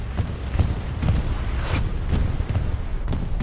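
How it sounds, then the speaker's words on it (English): Bombing-run explosions from a WRTB bombing run in competitive Hell Let Loose on the Carentan map, a dense rumbling barrage of repeated booms and thuds layered together, steady and loud throughout. "Bombing run is coming in, and it's going to be a WRTB bombing run."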